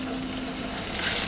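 Garlic, shallots and chilli sizzling in hot oil in a home kitchen pan, a steady close crackling hiss with no talk over it.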